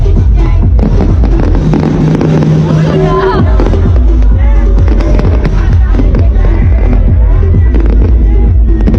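Fireworks bursting at the Jakarta 497th anniversary celebration at Jakarta Fair Kemayoran, loud repeated cracks and booms overlapping with a cheering crowd and chatter, with a whistling rocket rising partway through.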